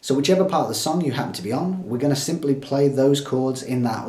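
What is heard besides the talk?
No distinct noise like a dog, phone or traffic.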